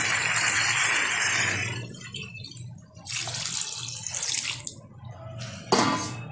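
Water poured into a pot of mutton curry, a strong rushing splash for about two seconds, then softer intermittent pours and splashes.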